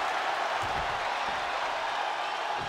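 Arena crowd in the wrestling video game WWE 2K23 roaring and applauding during a John Cena versus Omos championship match, a dense, steady wash of cheering that stays loud and unbroken throughout.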